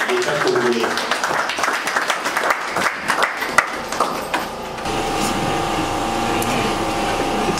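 An audience at a Congolese ceremony handing over COVID-19 protective equipment to school coordinators claps in a dense, uneven burst for about four seconds. The applause then fades and a steady background takes over.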